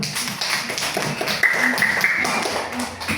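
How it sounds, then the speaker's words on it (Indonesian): A class of students clapping their hands together in a classroom, a dense irregular patter of many claps mixed with a thin whistle-like tone in the middle, fairly near and steady throughout. "Jadi tepuk tangan dulu untuk kita semua."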